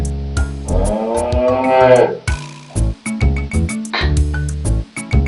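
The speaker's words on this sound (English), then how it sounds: "A dairy cow off the farm." A dairy cow off the farm gives a long, loud, close moo, followed by shorter lowing calls, against a backdrop of sharp intermittent knocks and clatter.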